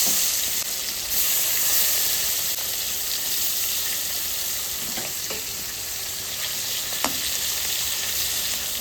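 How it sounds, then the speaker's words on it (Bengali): Whole cumin, ginger, dried red chillies and bay leaves crackle and sizzle in hot oil in a wok, a loud steady frying hiss with occasional sharp pops. "এই যে মশলা জিরে আর আদা আর শুকনো লঙ্কা আর জিরে আর তেজপাতা ফোড়নে দিচ্ছি"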